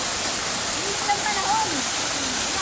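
River water runs in a steady broadband rush on a mountain trek, a continuous wash of flow with faint, indistinct voices mixed in underneath.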